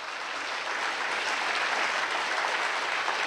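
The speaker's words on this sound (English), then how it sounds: "Let's give Michael another round of applause." Banquet guests at a sports hall of fame dinner applaud, an even, sustained roar of many hands clapping at once, full and close with no break.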